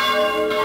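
A church bell in Sanlúcar de Barrameda, Cádiz, rings with a rich, sustained metallic tone, its overtones hanging in the air without pause.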